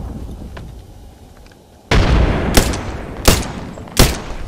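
A frag grenade explosion and gunfire in the Apex Legends shooter game: a heavy blast bursts in after quiet, followed by three sharp, loud gunshots spaced evenly apart, with no voices.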